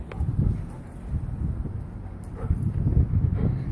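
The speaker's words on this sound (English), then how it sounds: "It's really windy here." Steady low wind rumbling and buffeting a microphone outdoors, continuous and fairly loud, with faint rustling throughout.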